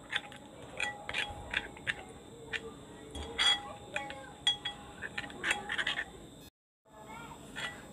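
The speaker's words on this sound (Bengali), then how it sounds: "1 চা চামচ আদা বাটা, একটা চামচ রসুন বাটা, দিয়ে এটাকে আমি ভালোভাবে মাখিয়ে নেব।" Ginger and garlic paste being worked into chicken for a home-style tandoori, giving soft wet squelches and scattered light clinks of a spoon against a bowl, close and fairly quiet, with a brief gap near the end.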